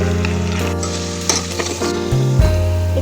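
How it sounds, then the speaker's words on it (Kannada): Cut potato pieces frying in hot cooking oil give a close, steady sizzle that runs throughout, with music playing underneath. "ಒಂದು ಬಟಾಟಿ ಕಟ್ ಮಾಡಿ ಫ್ರೈ ಮಾಡಾತೀನಿ"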